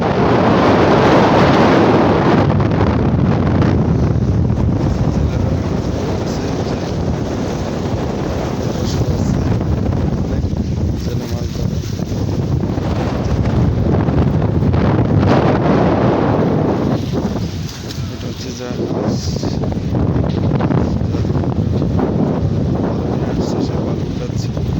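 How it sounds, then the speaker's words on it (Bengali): Strong wind along a riverbank roars and buffets the microphone in a loud, continuous rumble that swells and dips throughout. "এই দেখেন অনেক বাতাস, অনেক"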